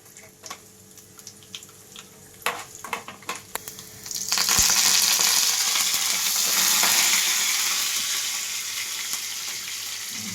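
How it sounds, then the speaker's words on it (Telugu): Loud, steady sizzling of spices and garlic frying in hot oil, starting with scattered crackles and pops, then swelling into a continuous hiss. "ఈ పోపు బాగా వేగిపోయిందండి"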